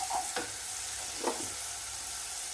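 Onions sautéing in a pan while sugar is added, a steady soft sizzle with two brief scraping strokes of a spoon stirring them, close up and without talk.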